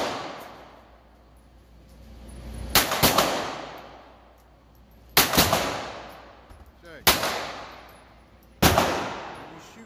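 Four sharp, loud pistol shots from a Canik TP9 Elite SC ring out at an outdoor range, spaced a few seconds apart, each cracking hard and then trailing off in a long echoing decay.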